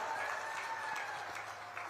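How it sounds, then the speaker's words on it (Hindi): A crowd at an Amit Shah public election rally in Badnawar, Dhar district, applauds with steady, dense clapping and a cheering hum, loud and continuous for about two seconds, with no speech over it. "जोर से ताली बजाओ दत्तीगांव जी के लिए।"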